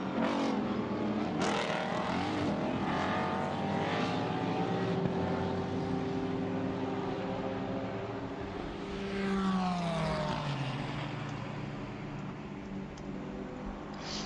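Race cars including an Aston Martin and a BMW roar past on a circuit at VIR, engines loud and close with pitch sweeping down as they pass, another car rising then fading away.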